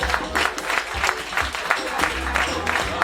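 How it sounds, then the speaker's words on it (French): Audience applause for Adi Chabani at a book-signing evening, a steady close patter of clapping lasting throughout, with a voice speaking over it. "pour applaudir d'abord Adi Chabani."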